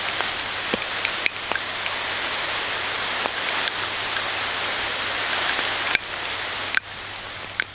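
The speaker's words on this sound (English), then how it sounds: "It's raining fairly hard now." Heavy rain falls steadily on an island in Indonesia, a dense broadband hiss with scattered sharp clicks and taps as drops strike the microphone directly, no voices.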